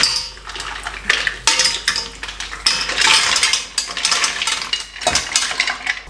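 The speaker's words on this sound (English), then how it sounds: "it's time for the final step, which is adding the mussels themselves" Mussels tumble into a cooking pot with celery and spring onion, making a dense run of clattering shell-on-metal knocks and rattles close up, with no talk.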